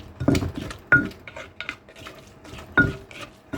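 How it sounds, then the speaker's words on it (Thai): Mushroom soup being stirred in a pot produces a few sharp metallic clinks and scrapes of a utensil against the pot, spaced irregularly over soft background noise, close up and without speech. "ยั่ว ยั่วพี่น้อง ยั่วให้มันเข้ากัน"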